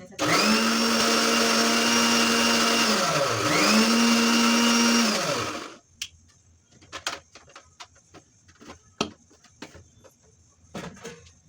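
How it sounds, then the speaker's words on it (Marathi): A mixer grinder blends garlic and chillies with water in loud, close bursts with a steady whining motor. The motor dips briefly mid-run, then stops, followed by scattered light clinks and knocks. "पाणी टाकून त्याला बारीक वाटून घ्यायचं"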